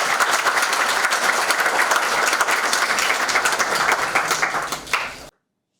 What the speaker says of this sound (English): Huge round of applause for sir.